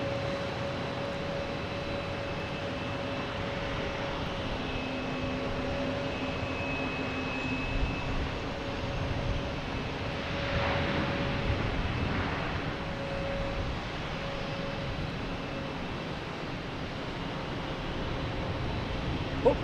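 A Porter airliner landing at Boston Logan Airport gives a steady, distant jet roar that swells slightly midway and holds as a continuous engine hum throughout, with no talk over it.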